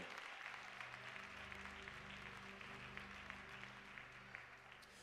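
Steady applause from a church congregation fills the room, a dense wash of clapping hands over held low tones from an instrument, continuing evenly throughout.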